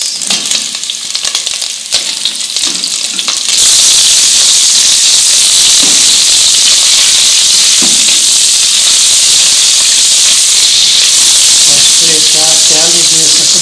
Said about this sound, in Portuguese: fritar até a linguiça começar a ficar douradinha